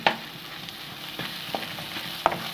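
Gourd and egg stir-frying in a pan, a soft continuous sizzle broken by a few sharp spatula scrapes and taps.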